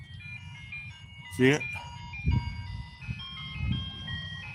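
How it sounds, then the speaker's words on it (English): An ice cream truck's chime melody plays in the background along a street route, faint tonal notes running under a man's nearby speech and ambient traffic. "That's the ice cream truck."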